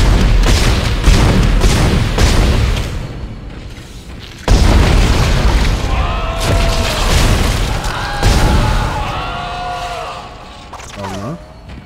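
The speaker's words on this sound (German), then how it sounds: "Die Dinger explodieren ja selber" Creatures burst apart in heavy, booming explosions in the video game Dead Space, with several loud blasts in a row followed by ringing, whining effects and game sounds.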